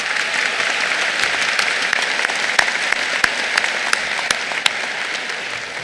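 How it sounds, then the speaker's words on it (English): A crowd at the Hutto High School 2021 graduation ceremony applauds steadily, a dense wash of clapping with a few sharper, louder claps standing out near the end. "so let's give them a round of applause."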